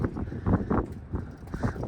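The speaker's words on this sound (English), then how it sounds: "you probably can hear it in the microphone of the camera. It is windy." Low, rumbling wind buffeting a camera microphone outdoors on a cold day, gusting unevenly throughout with no voices heard.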